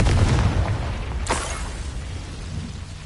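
A Confringo fire spell goes off in Hogwarts Legacy, a single fiery burst and boom over a low rumbling game background, with no talking.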